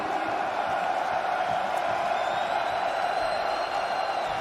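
Esports arena crowd at the PGL Antwerp Major Counter-Strike grand final, FaZe Clan versus Natus Vincere, a steady dense roar of cheering and shouting from a large audience, with talking underneath.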